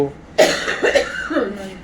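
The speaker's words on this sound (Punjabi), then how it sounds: "ਖੰਘ ਛਿੜ ਗਈ ਮਾਤਾ ਜੀ ਨੂੰ" A short burst of harsh coughing, a few rough coughs in quick succession, close and fairly loud, with a voiced, throaty quality.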